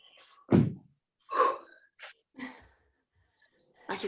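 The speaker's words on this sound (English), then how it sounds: "I can hear some heavy breathing." Hard breaths during a home workout session: several loud, separate gasping inhales and exhales, spaced about a second apart, close to the microphone with no talk over them.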